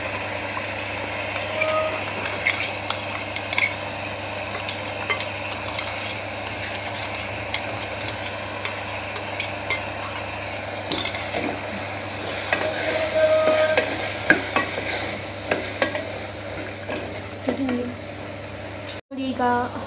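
Ground masala paste fries in a pan with softened tomatoes for veg pulao, a steady sizzle broken by repeated spoon scrapes and stirring clatter, with faint traffic noise in the background.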